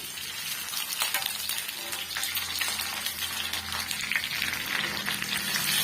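Fish frying on a tawa for roadside-style masala tawa fish, with a steady close sizzle and a few soft scraping touches as the pieces are turned. No voices are heard.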